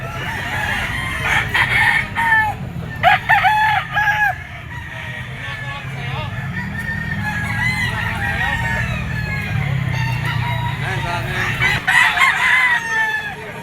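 Several stag gamecocks, a Male Sims cross on SBR among them, crow repeatedly at a busy cockfighting grotto market, their calls loud and overlapping above a steady crowd murmur and low background rumble.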